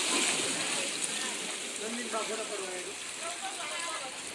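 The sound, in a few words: tide water rising over steps at Dwarka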